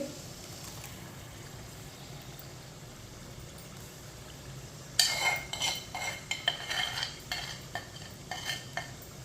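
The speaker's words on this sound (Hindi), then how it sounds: "पालक को ना अच्छी तरह मिक्स करना है।" A spoon stirs ground spinach in a pan for aloo palak. A low, steady hum comes first, then about halfway through a run of close scraping and clinking strokes begins and continues irregularly to the end.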